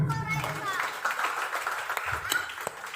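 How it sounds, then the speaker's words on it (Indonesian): A gathering at a Christmas celebration claps for the organizers, scattered hand claps rising under an ongoing voice, with a voice briefly audible. "Tepuk tangan untuk mereka semua."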